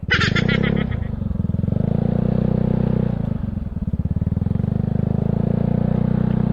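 A Yamaha Mio Sporty scooter engine chugs steadily up close as it rides through a muddy trail, with a brief higher whine at the start and a constant low putter after.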